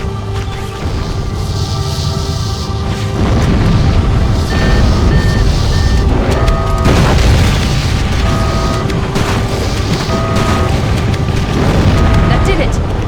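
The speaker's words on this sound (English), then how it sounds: "Use explosives on the other 3 reactors. That should be enough to trigger a wildcat explosion of the engines." Fusion reactor explosions in the video game Halo: Combat Evolved, heard as loud, sustained rumbling booms with layered blasts and tonal electronic alarm tones running throughout.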